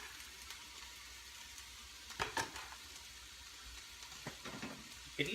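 Kale and mushrooms fry in a pan with a faint, steady sizzle, broken by a few sharper clicks and scrapes of stirring.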